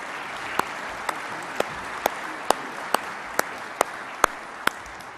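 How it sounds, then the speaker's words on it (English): Audience applause for panelists at an Air Force Association air warfare symposium: a steady wash of distant crowd clapping, with one nearby pair of hands striking sharply at an even, regular pace above it. "So please join me in a round of applause for our panelists,"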